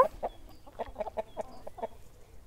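Hens clucking near a chicken coop, a quick run of soft, close clucks and short calls over a quiet background.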